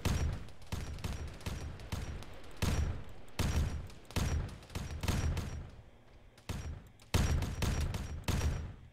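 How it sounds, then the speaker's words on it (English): Bolter gunfire in a Warhammer 40k video game: loud bursts of heavy automatic shots fired in rapid repeated volleys with brief pauses between them, close and dominant with no talk over it. "So I'm walking my bolter rounds back and not to them."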